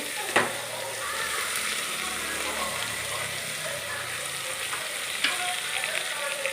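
Onion and ground garam masala fry in hot ghee for a mutton gravy, giving a steady close sizzle with a couple of sharp clinks of a spoon against the pan.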